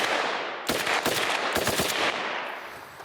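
Automatic gunfire cracks out in rapid bursts outdoors, several quick volleys of sharp shots close and loud, separated by brief gaps, with a ringing echo fading at the end.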